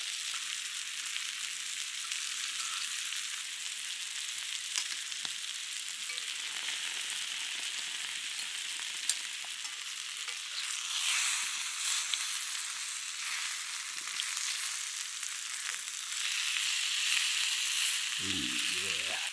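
Potatoes searing in a pan at a winter camp, a steady broad sizzle holding throughout with faint stirring scrapes and a brief clatter near the end, no talking.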